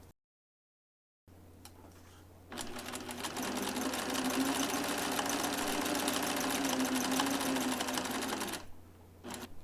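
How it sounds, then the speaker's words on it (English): A 40-year-old sewing machine stitching a buttonhole on a shirt, a steady rapid mechanical whirring and clatter that starts softly, swells to a sustained close hum for several seconds, then stops. "I have to manually stop my machine and do the bar tack at the bottom"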